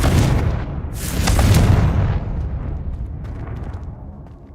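Confringo fire-blast spell exploding in the Hogwarts Legacy video game: a loud booming burst at the start, a second heavy blast about a second later, then rumbling debris that fades out.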